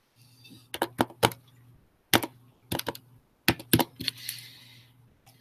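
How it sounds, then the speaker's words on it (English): Sharp, separate clacks from a computer keyboard being pounded hard, arriving in short irregular bursts with brief pauses between them over a low electrical hum. "Like banging into that keyboard."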